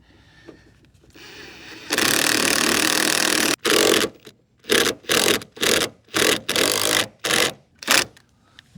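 Impact wrench tightening a nut on a 40-inch auger ground anchor for a solar shed, one long loud whirring run followed by a series of short, rapid bursts, close by.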